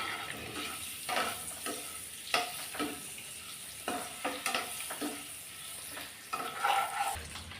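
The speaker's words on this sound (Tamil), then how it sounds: "ஒரு 2 நிமிஷம் மட்டும் இந்த மசாலாவுடைய முட்டையை நல்லா இந்த மாதிரி பிரட்டி விடலாம்." Eggs stirred and tossed in masala in a pan, with a soft ongoing sizzle and irregular scraping, turning strokes of a spoon against the pan, close and moderately loud.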